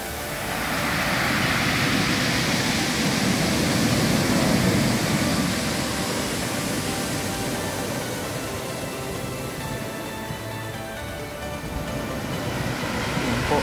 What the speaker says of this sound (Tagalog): Malalaki po talaga ang alon.